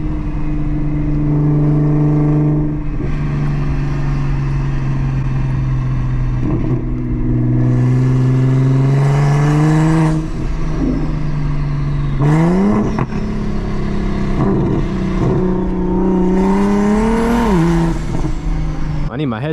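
Turbocharged BMW M240i accelerating hard from inside the cabin, engine note climbing steadily through several gears with brief dips at each shift, loud and continuous while people talk over it.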